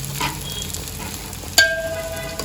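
Sabudana and crushed peanuts stirred together in a pan, a soft steady sizzle and scraping of a spoon close up, broken by one sharp metallic clink followed by a fading ringing tone.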